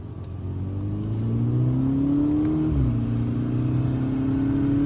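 A Volkswagen GTI accelerates hard from inside the cabin, its engine note climbing steadily in pitch, dipping briefly at a gear change, then rising again as the revs build, loud and continuous with no talk.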